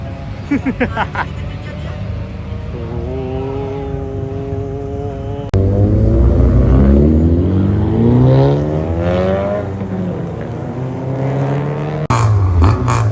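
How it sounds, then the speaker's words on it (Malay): A classic car's engine revs and roars loudly nearby on a busy Saturday-night street in Kuantan, its pitch sweeping up and down, while excited voices chatter and laugh over it. "Oh, kereta klasik, kereta klasik."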